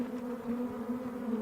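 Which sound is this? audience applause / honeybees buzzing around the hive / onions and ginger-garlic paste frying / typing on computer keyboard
honeybees buzzing around the hive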